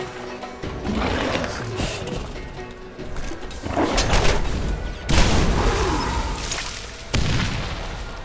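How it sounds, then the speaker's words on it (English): A grenade blows up in the video game Borderlands, booming bursts rolling out amid ongoing gunfire and combat noise, loud and close, with a couple of separate heavy impacts across the stretch. "I grenaded him"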